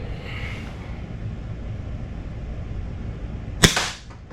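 An ASG CZ Shadow 2 airsoft pistol fires a single sharp, loud snap close by, standing out against a steady low background hiss and fading within a fraction of a second.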